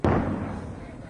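A single heavy boom of mortar fire in the Russia–Ukraine war, sharp onset followed by a rolling, decaying rumble, moderately distant.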